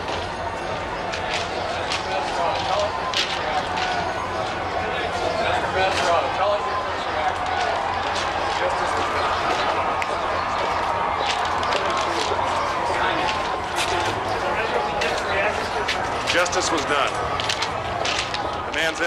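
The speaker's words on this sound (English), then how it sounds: "The crowd surge on the street to watch the car leave." Dense street crowd surges as Michael Jackson's car leaves court after the 2005 trial verdict, a steady roar of many voices with shouts and scattered sharp bursts that stays loud and continuous throughout.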